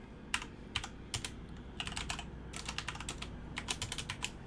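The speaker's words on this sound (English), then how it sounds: "You do get used to typing it out." Computer keyboard typing in bursts of quick, crisp key clicks separated by short pauses, fairly quiet and close, with no voices over it.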